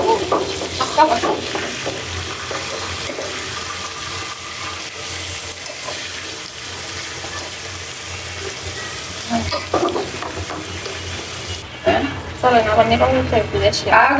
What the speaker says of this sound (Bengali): এই যে আলুর চপগুলো ভেজে নিচ্ছি